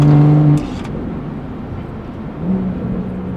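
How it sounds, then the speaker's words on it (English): A BMW 340i with the B58 engine on an MHD tune, driving: a strong engine drone with a clear tone at first, dropping to a steady cabin road rumble before the engine note rises again. "The car sounds good."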